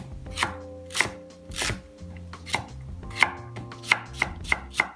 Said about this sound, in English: To me, chopping vegetables is almost a therapeutic thing.